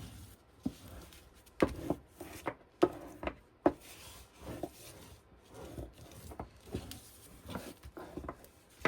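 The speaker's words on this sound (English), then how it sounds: "Okay, now I'm going to burnish that down." A paper recipe book page is rubbed down in a series of soft, close scraping and patting strokes, irregular and quiet, with no talk.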